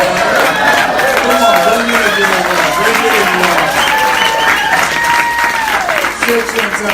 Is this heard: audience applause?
yes